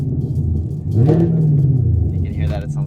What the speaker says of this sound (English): I just wanted you to hear the interior noise, kind of what you can get inside the car. Right now I have the valves open